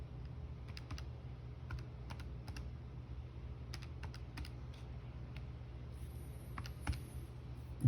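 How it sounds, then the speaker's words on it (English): Keys clatter on a computer keyboard in quick irregular bursts of light clicks, fairly close but soft, over a steady low room hum with no talking. "And I'll go ahead and type that in."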